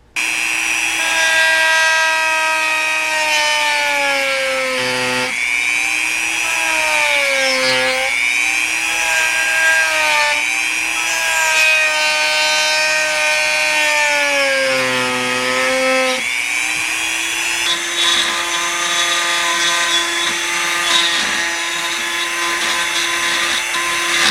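A Dremel rotary tool carves the mouth and teeth of an anglerfish fishing lure, a loud, close, continuous high whine that dips and rises in pitch as the bit bites into the material, running alone without talk.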